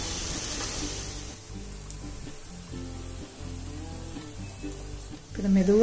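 Bun parotta, Madurai street-food style, frying over a low flame in a pan and being flipped repeatedly, giving a steady close sizzle with soft scraping turns and a brief louder burst near the end.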